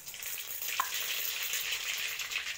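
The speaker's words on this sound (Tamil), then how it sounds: "எண்ணெய் ஊற்றிட்டு கடுகு போடணும்." Mustard seeds crackle and sputter in hot oil in a sand pot, the start of a nethili fish fry, giving a soft, steady hiss with fine popping, fairly faint and with no voices.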